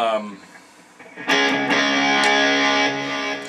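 A sustained, heavily distorted electric guitar chord from a song rings out loudly after a brief quieter stretch, with a few sharp attacks in between.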